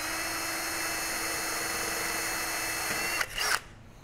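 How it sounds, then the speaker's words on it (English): A power drill whines steadily and faintly as it bores through a drill bushing into a layer of sheet metal, then the pitch shifts and cuts off near the end. "And when you drill that, it's only going down through obviously the drill bushing there and then the layer of sheet metal"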